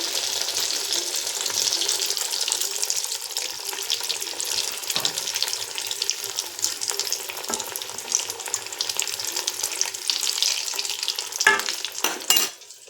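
Bread roasting in a hot pan gives a steady, fairly quiet sizzle and hiss, with a few sharp scraping clicks of stirring or turning near the end.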